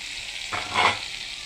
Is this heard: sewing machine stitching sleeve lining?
no